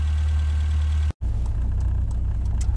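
A Rover Mini Cooper MPI engine runs at a close, loud idle with a steady low throbbing rumble. A brief dropout breaks it, then the running continues with light rattles.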